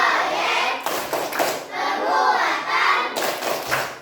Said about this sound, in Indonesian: Kita ice breakingnya dengan tepuk P5 ya anak-anak.